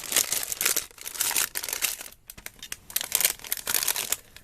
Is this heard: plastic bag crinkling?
yes